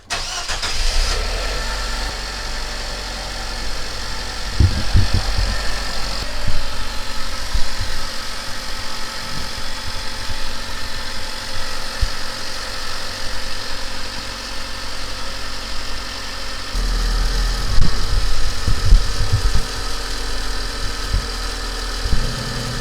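A car engine cranks and starts after an oil feed line install, then settles into a steady mid-pitched idle with a light vibration, loud and close, with a brief rev change near the end and no talk.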